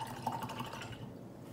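A paint brush swished and rinsed in water, a brief soft trickle and dripping, close and quiet.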